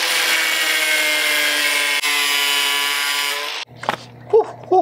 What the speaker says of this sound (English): Let's grind it up.